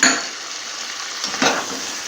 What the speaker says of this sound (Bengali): আমি এখন দইটাকে দিয়ে একটু ভালো করে কষিয়ে নেব।